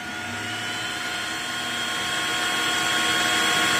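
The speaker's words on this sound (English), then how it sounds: "As is the jet engine when it starts." A 3D printer's fan serves as a homemade video game's jet engine start-up sound: a steady, close whirring hum with a high tonal whine that rises slightly in loudness over about four seconds, with no voices.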